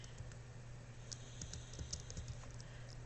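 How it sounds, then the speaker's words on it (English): Fingers type on a computer keyboard, with a short run of quiet, irregular key clicks against a low steady hum, close and faint, no talking. "I'm just going to type in Illinois."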